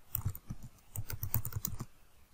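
Fingers type on a computer keyboard in a quiet room, a quick irregular run of soft clicks and taps close by, stopping near the end, with no voices.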